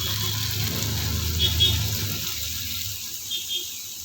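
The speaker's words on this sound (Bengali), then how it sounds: "এবার এর মধ্যে আমি পরিমাণ মতন জল দিয়ে দিচ্ছি।" Water pours into a cooking pot as a steady rushing splash with low, full gurgling at first that thins and fades over a few seconds, close by with no talking.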